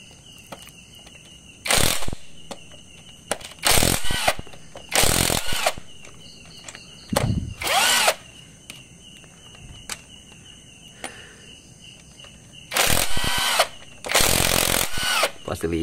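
A power tool removing 10 mm bolts from a car engine during an overhaul, several short loud bursts of whirring separated by pauses, with quiet background hum between them.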